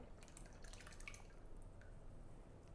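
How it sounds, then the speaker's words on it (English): Homemade coffee liqueur drips and trickles through a paper coffee filter, straining out the grounds in a steady run of small, close, quiet drops with no talking. "we're just going to pour and let that soak through, strain out all the grinds so we can mix it with our simple syrup"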